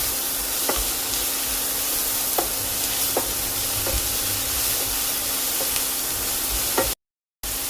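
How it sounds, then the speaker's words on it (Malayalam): Vegetables sauté in a hot pan with a steady, loud sizzle and hiss, broken by sharp, regular clicks and scrapes of a spoon stirring against the metal, with no talking, before the sound cuts out abruptly near the end. "ഇതെല്ലാം കൂടെ നന്നായിട്ടൊന്ന് വഴറ്റിയെടുക്കണം"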